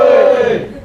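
A room of schoolchildren shouting together in response, a loud, sustained group cry held briefly, then tapering off.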